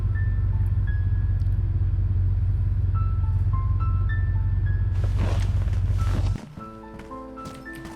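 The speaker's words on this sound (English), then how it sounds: "the car is very loud" Vehicle engine in the video game DayZ, a loud, steady low rumble for about six seconds that then cuts off abruptly, leaving quieter game ambience with scattered tones.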